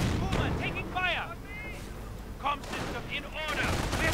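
Machine gun fire crackles in a WWII strategy game battle, with Stormtroopers advancing on an anti-tank gun, bursts of shots and impacts sounding under steady commentator talk.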